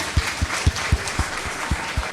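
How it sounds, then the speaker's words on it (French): An audience claps for the winner of a quiz show, with a slow, regular beat of distinct claps that sounds like a small group rather than a large crowd. "Applaudissez s'il vous plaît."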